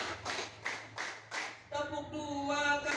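A school class claps hands together in a counted rhythm, four or five sharp, evenly spaced claps, after which a voice speaks.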